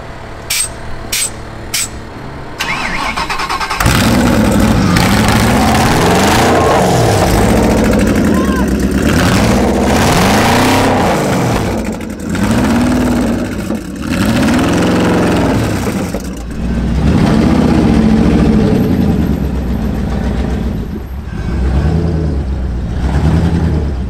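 A futuristic-looking motorbike with a rear wing running and revving, its engine rising and falling in repeated swooping surges over a constant rumble, loud and close, with someone talking over parts of it.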